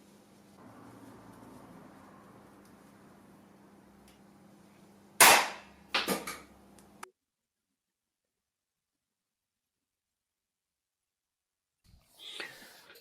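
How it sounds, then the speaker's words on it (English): A flash-powered solenoid fires to knock a coin off a model's head: one sharp, loud crack followed by a few quick rattling knocks, after a quiet hiss and before several seconds of silence. "Now I'll shoot a coin off its head."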